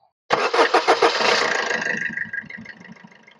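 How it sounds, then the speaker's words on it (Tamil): A Suzuki Swift LDi diesel engine cranks with rapid chugging, then catches and settles into a steady rough idle, close and loud. "ஜஸ்ட் இப்போ வந்து வண்டியை ஆன் பண்ணி பார்ப்போம்."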